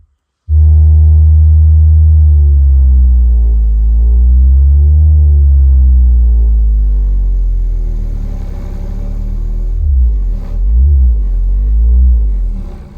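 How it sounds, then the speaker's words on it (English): Deep, loud bass tone from a woofer driven by a 1990 Autotek 9050 BTS car amplifier, a steady sustained test tone wavering and sweeping in pitch for about twelve seconds with no talk. "Try the woofer test with the Autotek 9050 BTS."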